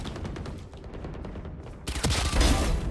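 Rapid gunfire bursts from the Ghost pistol in Valorant, a quick run of sharp shots followed by louder, denser firing and booming impacts toward the end.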